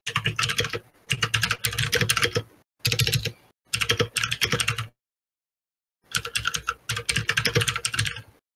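Rapid typing on a split ergonomic Microsoft keyboard, dense clattering bursts of keystrokes broken by short pauses and one longer silence, close and crisp.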